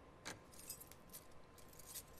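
Keys jangle faintly in The Last of Us Part II, a few light metallic clinks scattered over a quiet background.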